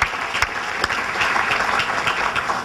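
An audience at a State of the City event gives a short, steady burst of applause, many hands clapping together at close range with a few sharper individual claps standing out.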